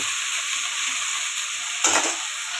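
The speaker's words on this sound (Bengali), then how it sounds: "আলুগুলোকে আমি দিয়ে কিছুক্ষণ আমি এইভাবে একটু নাড়াচাড়া করব।" Small chopped potatoes fry in oil in a pan, a steady close sizzle with one brief louder scrape of stirring near the end.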